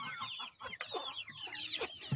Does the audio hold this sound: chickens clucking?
yes